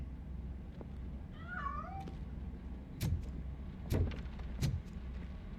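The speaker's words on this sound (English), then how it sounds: "That cat must be hiding inside." A cat in the game Robocop: Rogue City gives one short rising meow near the start, then a few sharp knocks and scuffles follow as it escapes, over a low steady in-game background hum.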